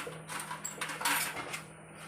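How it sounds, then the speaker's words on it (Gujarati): Lapsi flour mixed with oil in a metal pot, with scraping and clinking of a spoon against the pot, close up, in a few irregular bursts with no talk. "લાપસીના લોટને સરસ રીતે તેલ સાથે મિક્સ કરી લેવાનું"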